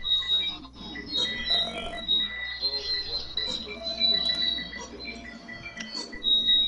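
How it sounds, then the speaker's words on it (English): Repeated high-pitched electronic beeps sound steadily in the background during a racing session at the Glen, coming in short pulses over a busy, muffled bed of noise with faint voices underneath. "What the hell is that beeping in the background?"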